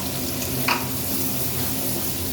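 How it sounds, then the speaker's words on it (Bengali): Onions frying in hot oil with black cumin seeds give a steady, close sizzle with one brief clink partway through, and no voices. "পেঁয়াজটা দিয়ে একটু ভাজা ভাজা করবো।"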